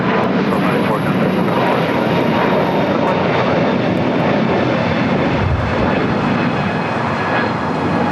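Airbus A321neo jet bound for Denver at LAX, a loud continuous broadband engine roar filling the whole clip up close, with a steady high whine riding on top.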